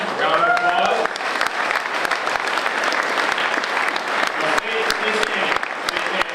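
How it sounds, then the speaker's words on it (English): Sustained applause from a crowd of diners at an Oshkosh 2012 aviation banquet, steady and full throughout with a few voices calling out over the clapping. "round of applause."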